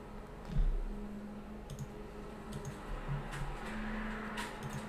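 Computer mouse clicks while working in Creo CAD software, a few light, faint, scattered clicks over a steady low electrical hum.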